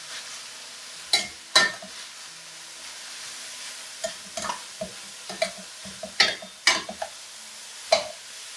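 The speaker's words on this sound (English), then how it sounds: "Once the meat is cooked, add the beans. Toss a few times." French beans and minced pork are tossed in a wok, heard as several sharp scraping stir strokes spread out over a faint background sizzle, with no one talking.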